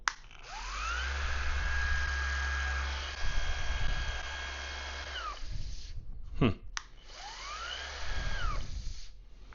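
A Vevor random orbital sander set to its lowest speed, 4,000 RPM, whines up to a steady hum, runs for several seconds and spins down, then starts again and runs briefly.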